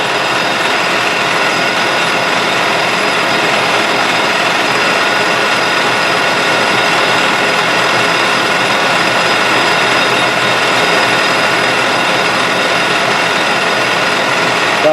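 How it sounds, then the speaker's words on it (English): A lathe turns a part for a Hemingway Kit compact rotary broach at about 1300 RPM on a light cut, giving a steady, close, unbroken mechanical whir and hiss for the whole stretch, with no talking. "I'm going to turn this about 1300 RPM"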